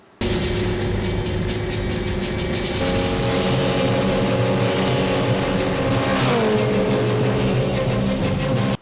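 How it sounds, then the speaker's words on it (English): Loud, continuous engine roar from the high-speed car chase in the film Mad Max 2, with revving engines and a pitch shift as a vehicle passes, steady throughout without talk. "the movie starts off on the right foot in a high-speed car chase"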